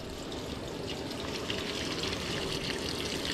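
Tap water running steadily into a washing machine set for a synthetic sleeping bag wash, a loud continuous gushing rush with no talk.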